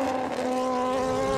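A BMW superbike races at full speed on the Isle of Man TT road course, its high engine note held loud and steady as it passes close by.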